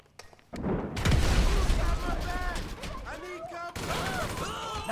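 Grenade explosion in the video game GTA V, a heavy booming blast that erupts after a few clicks and rumbles on with crackling debris, followed by game voices shouting over the noise.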